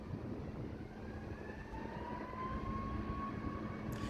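An American Boeing 737 jet passes with a steady, moderately loud engine roar and a rising whine, heard alone without talk.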